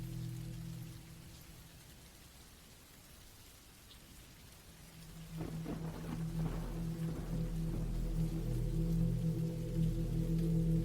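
Rain falls in a steady, faint hiss that thickens partway through into a fuller, denser patter over a low rumble, with no voices.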